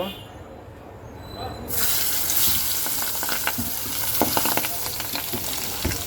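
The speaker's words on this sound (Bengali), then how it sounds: "এখন আমি মাছগুলো ভেজে নেব" Pabda fish frying in hot oil with turmeric and salt, a quiet hiss that suddenly swells into loud, dense spattering sizzle with popping crackles, close up.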